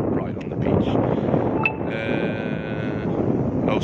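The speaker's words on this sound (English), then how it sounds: "it is a bit windy" Outdoor wind buffets a microphone at a beachside mobile home park near Torre del Mar, a loud continuous low rumble with brief faint whistling tones partway through.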